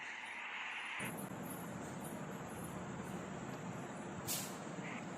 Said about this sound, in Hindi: यहाँ पर आवाज़ इतनी तेज़ आती है गाड़ी वगैरह की